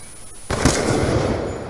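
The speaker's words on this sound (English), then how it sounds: "I should win this gun battle." Black Ops 2 gunfire during a one-on-one gun battle, a sudden loud blast followed by a sustained rumbling wash of shots and noise.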